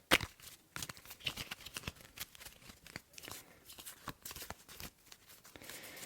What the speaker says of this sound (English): I like the sounds of cards being shuffled.